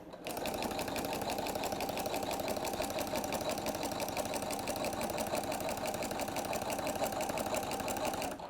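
A sewing machine stitching a quilted triangle table runner, running at a fast, steady, even mechanical rhythm close up for the whole stretch.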